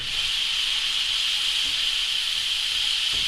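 Blackcurrant liqueur reducing in a hot pan during goose cooking, a loud steady hiss of bubbling steam that runs unbroken and close throughout.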